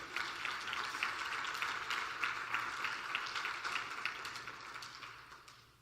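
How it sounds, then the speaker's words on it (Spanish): A church congregation claps in praise: a faint, distant patter of many hands, fairly even throughout, thinning out toward the end. "démosle palmas a nuestro Dios"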